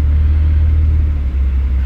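BMW M140i engine rumbles in a deep, steady, loud drone from inside the car, a low continuous growl with no voices.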